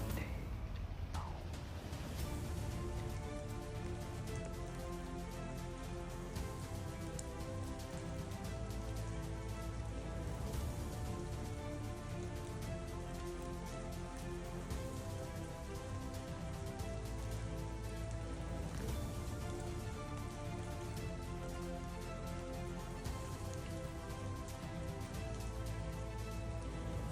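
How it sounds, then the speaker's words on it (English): Steady drizzling rain falls on a cold day after a temperature drop in Kansas, heard as a dense, continuous patter that stays at an even loudness throughout, with no speech over it. "It has been drizzling all day long."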